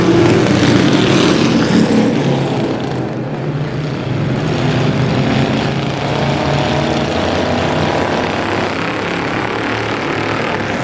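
Vintage race cars at Star Speedway roar past in a loud, dense engine drone that swells near the start, then holds a steady rumbling pack sound throughout with no voices.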